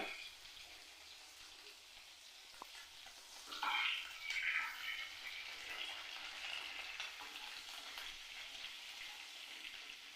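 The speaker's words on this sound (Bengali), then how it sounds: "চিংড়ি মাছগুলো ভাজা হয়ে গেছে, এবার এগুলোকে নামিয়ে নেব।" Prawns fry in hot oil with a soft, low sizzle and crackle that swells briefly to a louder spatter partway through, then settles into quiet steady frying.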